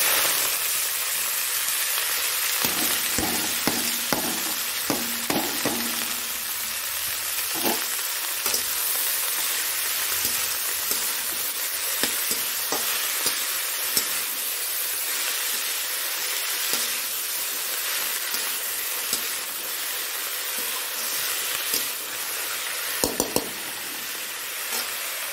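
Saag greens sizzle steadily in a hot oiled pan for macher jhol, with clattering spoon-stirring strokes in the first few seconds and a few later scrapes over the constant frying hiss.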